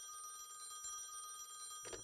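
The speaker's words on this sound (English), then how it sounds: "Phone's ringing." A telephone in The Texorcist video game gives one short ring near the end, rising over steady, tonal background game music.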